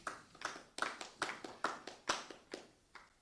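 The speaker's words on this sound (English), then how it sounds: "Never had any claps before" A small audience at a Krishna devotional gathering gives a brief round of clapping after a short poem, about eight sharp hand claps spaced at an even pace, close and fairly quiet, then trailing off.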